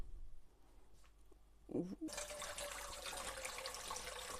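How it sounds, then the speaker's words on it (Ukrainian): Water starts pouring steadily after a brief clink, a continuous rushing stream as liquid drains out of glass jars of watermelon being canned, close by, with faint room noise before it. "Буду зливати кавуни."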